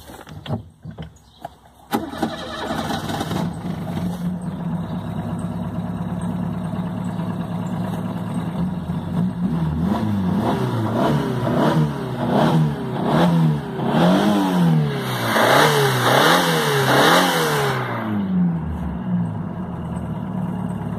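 Fiat 147 fitted with a Celta ignition coil, cranking and starting, then idling and revved up repeatedly in rising and falling sweeps, loud and close, before settling back.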